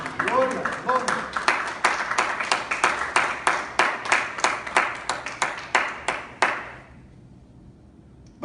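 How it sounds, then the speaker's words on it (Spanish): Congregation in a church service clapping in a steady unison rhythm, sharp repeated claps close and loud for about seven seconds before fading out, a voice briefly audible at the start. "Denle una ofrenda de aplausos al Señor."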